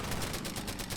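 Rapid, sustained gunfire from the Order of Battle strategy game as units attack a bomber, a dense burst of shots running steadily throughout without pause.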